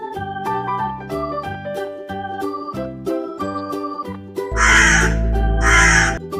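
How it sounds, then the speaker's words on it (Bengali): A cartoon black crow caws from a distant tree branch, giving two loud, harsh caws near the end. Light tinkling background music plays throughout, and no one speaks. "এইদিকে দূর গাছের ডাল থেকে কালো কাক তাদের সমস্ত কথা শুনছিল"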